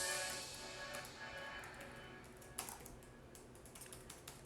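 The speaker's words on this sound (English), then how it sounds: "as I'm about to type out this message" Quick tapping of fingers typing out a text message, a steady run of soft close keystrokes with a sharper tap near the middle and no talking.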